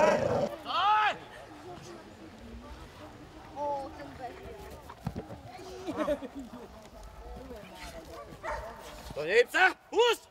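A police service dog barks several times, loud and close, amid shouted commands and other voices at a working-dog handlers' competition.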